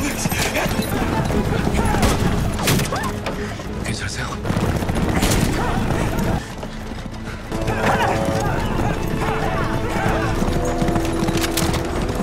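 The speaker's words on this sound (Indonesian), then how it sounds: "Pasukan berkuda Jepang yang dipimpin Miura mengejar kereta Iyun." Japanese mounted troops gallop after a fleeing horse-drawn carriage, hooves clattering loudly and continuously with horses whinnying, bursts of gunfire breaking through, and a voice talking over the chase.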